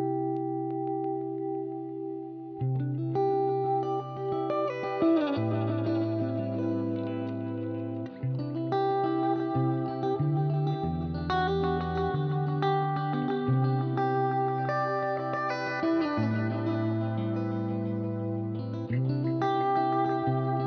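Electric guitar playing the midsection of a song through a Catalinbread delay pedal, a steady melodic line with echoing repeats and chorus-like shimmer filling the background, heard alone without talking.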